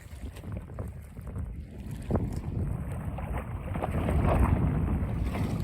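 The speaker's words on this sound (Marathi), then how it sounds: "मित्रांनो पाण्याचा आवाज ऐकू शकता तुम्ही कसं येतोय बघा." Water rushes steadily beside a hill, a constant broadband roar growing slightly louder toward the end, mixed with some wind buffeting.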